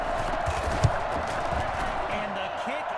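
A stadium crowd roars and cheers after an Eagles touchdown in an American football video game, a steady broad wash of noise held under a commentator's voice.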